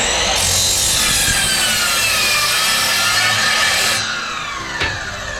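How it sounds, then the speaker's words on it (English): A miter saw slices through a piece of wood in one loud, steady cut lasting about four seconds, then the blade noise drops away as it spins down. "So I'm just going to bring the saw down and line it up so we're on the right side of the cut line."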